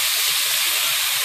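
Cannellini beans sizzle in leftover bacon grease with a loud, continuous, even hiss that runs unbroken through the short stretch, close up and alone.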